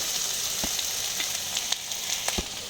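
Steady, close sizzling of spices frying in hot oil, with a few brief clinks and stirring knocks scattered through.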